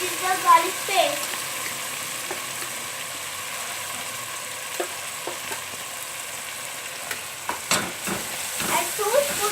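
Ginger garlic paste sizzles steadily in a hot pan for a chicken curry, with a spoon scraping and stirring in scattered clicks and knocks; no talking.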